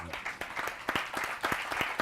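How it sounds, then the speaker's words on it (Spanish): Audience applause after a request to clap at a special news broadcast about a milk collection project, heard as irregular, moderately loud bursts of hand claps from a room of people. "les pido un aplauso"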